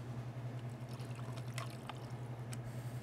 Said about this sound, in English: We're gonna take our cucumber juice, pour it over some ice.